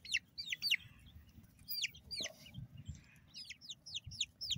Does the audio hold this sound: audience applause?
no